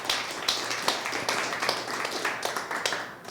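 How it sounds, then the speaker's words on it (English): A small audience gives a brief round of applause, light uneven claps fairly close, without talk over them. "round of applause for her."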